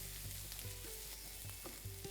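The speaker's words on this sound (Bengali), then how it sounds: "এই পেঁয়াজটাকে আপনাদের ততক্ষণ ভেজে নিতে হবে যতক্ষণ এটা একদম লাল লাল হয়ে ভাজা হয়ে যাচ্ছে" Thinly sliced onions frying in a pan, a steady soft sizzle with faint intermittent stirring scrapes and no talking.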